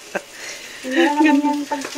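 Hot cooking oil frying in a pan at home, a steady close sizzle with brief crackles and spatters, while a voice and tonal kitchen sounds overlap in the middle.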